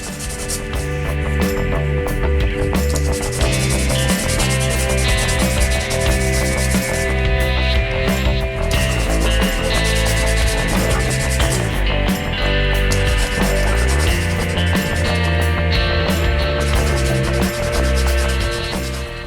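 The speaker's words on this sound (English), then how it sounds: "just a bit of fine tuning with some sandpaper just to sand this into a better sort of finished" Sandpaper rubbing on a plastic part of a vintage Kenner Star Wars Death Star toy during restoration: steady, continuous scratchy friction close up for the whole stretch, with no talking.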